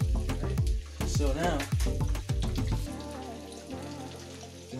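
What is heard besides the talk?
beef frying in a pan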